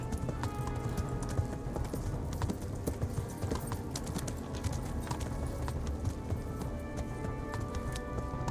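A horse gallops in the medieval game Kingdom Come: Deliverance, with rapid continuous hoofbeats over a steady rumble of movement, loud and sustained throughout.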